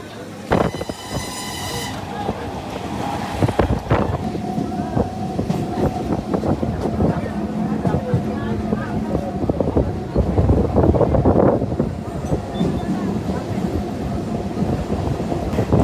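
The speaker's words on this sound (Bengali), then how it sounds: "ট্রেন চলে এসছে," Train pulling into a railway station and rolling past, with a steady loud rumble, clattering wheels and a brief high whistle-like tone near the start, plus wind buffeting the microphone throughout.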